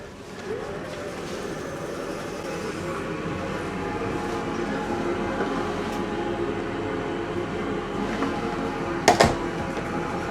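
Inside a night train running from Lithuania toward Budapest, a steady low rumble of the moving carriage continues throughout, with faint rattles and a sharp clack near the end.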